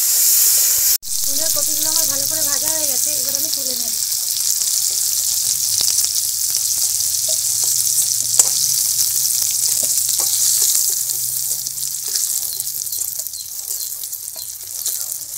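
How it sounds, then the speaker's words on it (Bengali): Cauliflower pieces fry in hot oil with a steady, loud, close sizzle throughout. A sharp clank comes near the start, then a brief tonal whine, and faint stirring scrapes sit under the hiss. "এবার এটা আমি কপিগুলো দিয়ে দেবো। কপিগুলো ভালো করে ভেজে নেব।"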